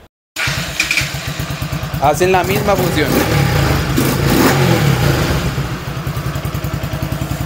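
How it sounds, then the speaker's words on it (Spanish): A Bajaj NS 200 motorcycle, a street bike adapted for the track, fires up after a brief silence and settles into a loud, close, throbbing idle with a couple of quick revs, while someone speaks over the engine. "Botón rojo, corta corriente, activa corriente y enciende la moto."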